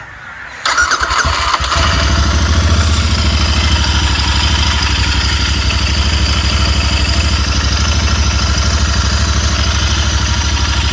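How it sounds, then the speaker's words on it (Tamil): A Royal Enfield Interceptor 650 motorcycle with fuel injection starts with a brief crank, then settles into a loud, close, steady idle with an even rhythmic thrum and a faint injector ticking. "வண்டி ஆன் ஆகிடுச்சு, ஃபியூல் இன்ஜெக்ஷன் சத்தம் வேறு வருது"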